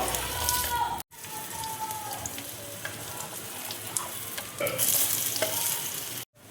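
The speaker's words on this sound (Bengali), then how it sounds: "ফ্রাই প্যানে দেখো সাদা তেল দিয়েছি। তেল দেখো গরম হয়ে গেছে। এবার আমি টিকিয়াগুলো ভেজে নেব।" Loud, dense sizzling of burger patties frying in white oil in a frying pan, continuous and close, with brief scraping stir sounds and a sudden stop near the end.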